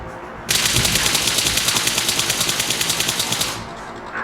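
Rapid automatic gunfire from the mobile battle royale game PUBG Mobile, a loud sustained burst of evenly spaced shots lasting about three seconds before cutting off, with no talking.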